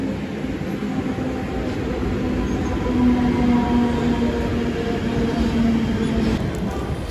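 Steady rumble and rattle from inside a moving commuter train, with a continuous low hum and faint wheel squeals rising and fading, no talk over it.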